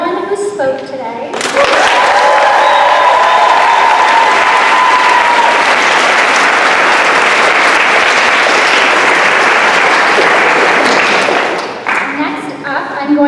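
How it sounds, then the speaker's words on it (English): A thunderous round of applause from a summit keynote audience, loud dense clapping swelling in after a brief voice and lasting about ten seconds before fading back toward speech. "give me a thunderous round of applause for everyone who spoke today"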